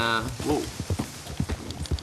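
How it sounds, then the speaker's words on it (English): Horse hooves clip-clop steadily as a rider travels toward a stable in the western video game Red Dead Redemption 2, the rhythmic hoofbeats close and clear, with a brief vocal sound near the start. "now I'm going to ride to the stable in Valentine"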